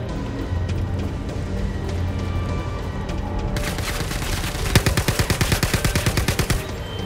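Gunfire in the Star Citizen video game: a steady roar of distant shooting gives way to a rapid burst of close, loud automatic shots firing in quick rhythm for about two seconds.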